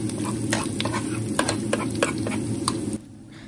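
Garlic frying in oil in a pan for pork dinengdeng, a Filipino dish, sizzles steadily while a utensil scrapes and stirs in quick strokes, cutting off abruptly near the end.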